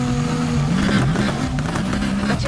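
Several car engines rumble and rev steadily at close range, with a continuous low drone and shifting pitch throughout.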